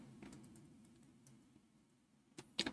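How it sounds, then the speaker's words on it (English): Typing on a computer keyboard: a few faint, quick keystroke clicks in a quiet room, scattered irregularly and ending in a sharper burst of keys. "So let us type Jupyter notebook"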